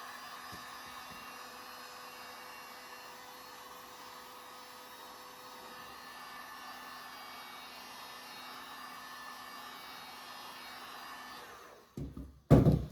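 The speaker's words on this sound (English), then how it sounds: "heat up the edge of my board with my heat gun to peel off the tape" A heat gun heats the edge of an acrylic pour painted board to loosen tape, giving a steady, close blowing whir that runs alone for about twelve seconds before cutting off with a few clunks.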